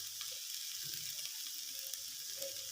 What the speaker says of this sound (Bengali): হলুদের কাঁচা গন্ধ চলে যাওয়া পর্যন্ত ভেজে নিতে হবে আনুমানিক দু থেকে তিন মিনিট ভাজলেই হয়ে যাবে